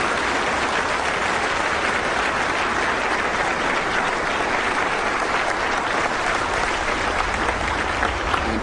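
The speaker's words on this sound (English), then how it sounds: "and they applaud him." A large crowd of Catholics applauds George Bush, dense continuous clapping sustained at steady loudness throughout with no voices standing out.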